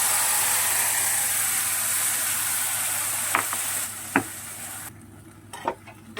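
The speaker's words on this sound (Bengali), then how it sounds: "সমস্ত মটরের পেস্টটা দিয়ে দিলাম এবার মিডিয়াম আছে এটাকে ভালোভাবে শুকিয়ে নেব" Pea paste for matarshuti kachori fries in a pan over medium heat, a dense steady sizzle that later thins out, with a few sharp utensil clicks and scrapes near the end, close and without talk.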